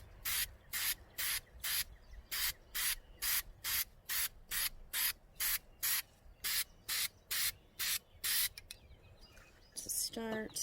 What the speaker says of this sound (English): doing some random washes for now with spray paint